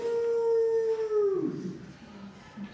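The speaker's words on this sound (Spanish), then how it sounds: "porque los lobos le aullan a la luna." A wolf howls with one long, sustained, fairly loud note that slides downward and breaks into a lower, rougher tail, heard alone and close.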